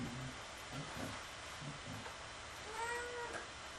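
A cat meows once, faint and somewhat distant, near the end over a steady background hum with indistinct low sounds earlier.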